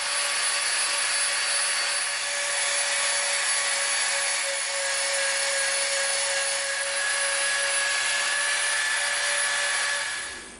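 Dremel rotary tool shaping EVA foam for a Klingon knife prop, a loud continuous high-pitched whine holding steady for about ten seconds before cutting off.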